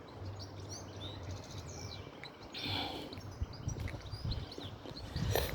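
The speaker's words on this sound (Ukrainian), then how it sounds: "дуже сильно співають птахи" Birds sing in a forest in Finland, with several thin, high chirps and tweets scattered over a steady low background rumble, fairly faint and at a distance, with no talking.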